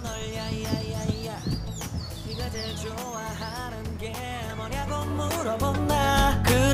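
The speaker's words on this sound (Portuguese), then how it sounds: "olhando essa paisagem, escutando os passarinhos" Outdoors, several birds chirp and tweet in busy, overlapping bursts throughout, fairly close and clear over a faint background murmur.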